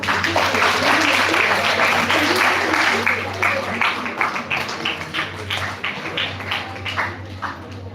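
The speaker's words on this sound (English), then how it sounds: "The applause must go on" Audience applause at a guest lecture on COVID, myth and media, a dense wash of many hands clapping that starts loud and steady, then thins into scattered, uneven claps as it tapers off, with a steady low hum beneath.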